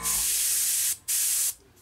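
Paint sprayed from an airbrush onto a model Refit starship saucer, two close steady hissing bursts, the first long and the second shorter after a brief gap.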